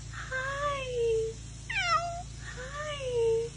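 A cat gives three clear, drawn-out meows at close range, the middle one sharper and rising, over a low steady background hum.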